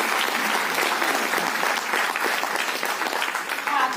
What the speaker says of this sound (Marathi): टाळ्या बिळ्या वाजवा की